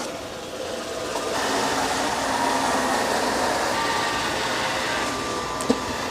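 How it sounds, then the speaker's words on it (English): A robot vacuum mops next to and underneath kitchen cabinets with a steady whirring, rumbling motor drone, close and fairly loud, and a single sharp click near the end. "Then it's going to mop right up next to that, underneath the cabinets."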